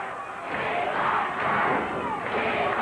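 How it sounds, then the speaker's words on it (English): A wrestling arena crowd at a 1983 Portland Wrestling match chants in unison, a rolling, rhythmic roar of many voices heard from a distance, rising and falling in waves. "The crowd chanting, "We want Kurt.""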